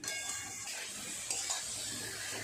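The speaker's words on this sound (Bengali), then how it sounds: "অল্প একটু জল দিয়ে আর একটু ভালো করে কষিয়ে নেব।" Elephant foot yam and potato sauté with spices and a splash of water, giving a faint, steady sizzle with a few soft stirring scrapes close by.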